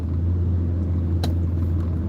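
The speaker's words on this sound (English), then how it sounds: "Pineville's got a pickup truck now in their arsenal." A pickup truck engine in a video game idles as a steady, close low hum, with one short bright click near the middle.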